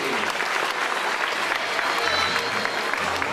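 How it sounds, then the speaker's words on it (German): An audience at a show in Fuerteventura breaks into steady, dense applause that holds evenly throughout, with a few crowd voices mixed in. "ein Applaus wieder für Fernando"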